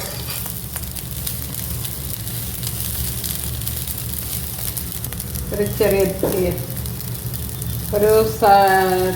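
Rice frying in ghee and stirred slowly in a pan, a steady soft sizzle with scraping stir strokes building toward the end, and a voice speaks briefly over it.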